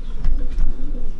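Pigeons coo in a breeding loft, a few soft throaty calls close by, repeated in short bursts over steady low loft noise.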